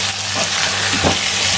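Washed squid stirred into a hot pan for a Kerala-style squid roast, a steady close sizzle with scraping stir strokes through it, no voices.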